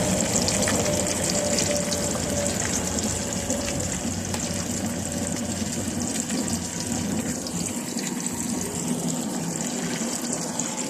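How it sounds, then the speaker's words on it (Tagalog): Fish heads fry in plenty of hot oil, a dense, steady, close sizzle and crackle that holds at an even level throughout with no talking. "Marami na itong ipiprito natin."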